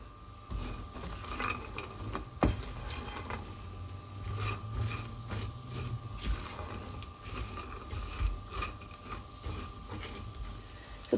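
Almonds stirred in a pan while cooking into chilli toffee, a steady scraping and rattling of nuts against the pan over a low background hum, continuous and fairly quiet.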